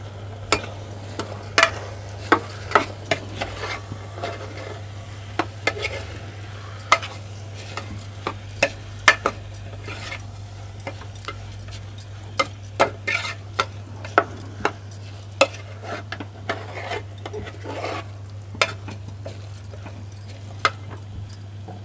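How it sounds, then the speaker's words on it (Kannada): Washed rice goes into a pan for menthya rice bath and is stirred over low heat, with a faint sizzle under repeated clinks and scrapes of a metal spoon against the pan, beneath a constant low hum. "ನಾನು ತೊಳೆದಿಟ್ಟಂಥ ಅಕ್ಕಿ ಹಾಕ್ತಾ ಇದ್ದೀನಿ"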